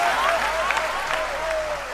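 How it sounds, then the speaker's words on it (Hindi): An audience at a Hindi poetry recital applauds in a dense, sustained wash of clapping, steady and loud throughout, with a voice heard faintly over it. "तालियों की गूंज से हौसला बढ़ा दो आप"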